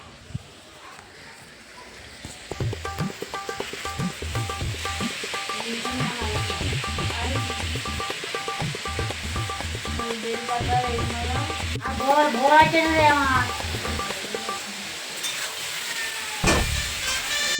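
Oil sizzles steadily as food fries in a pan, with clinks of a utensil and voices talking over the crackle.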